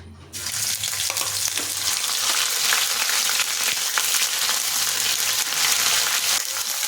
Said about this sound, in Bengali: এখন দিচ্ছি আদা কাঁচা লঙ্কার পেস্ট